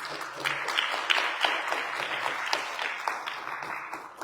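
Audience clapping at a Sunday temple program, an uneven, moderately loud patter of hands with a few sharper claps, continuing for several seconds with a faint voice underneath at the start.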